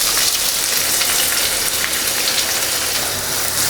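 Chopped medium onions sauté in a pan over a medium flame, giving a close, steady, dense sizzle that crackles continuously without pause.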